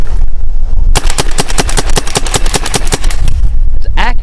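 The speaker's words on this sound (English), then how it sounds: "I am just putting a nice orange color spot on that tree right there." A RAP4 468 paintball marker fires a rapid string of about twenty sharp, evenly spaced pops at a tree outdoors, loud and close, with a brief rattling, whistling sound after the burst.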